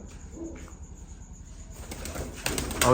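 Pigeons coo softly in the background, then wings flap and rustle loudly nearby toward the end.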